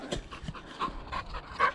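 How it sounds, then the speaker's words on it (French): A loose dog pants rapidly near a cyclist on a gravel road, quick rhythmic breaths close by with faint whimpering edges, no clear bark and no talk. "Allez, chien en liberté comme ça là."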